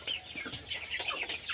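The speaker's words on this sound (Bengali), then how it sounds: "দেখেন সবগুলো মুরগ এখানে এক জায়গায় জড়ো হয়ে গেছে" Several young farm chickens, about three months old, cluck and chatter together in a busy, continuous murmur of overlapping calls close by.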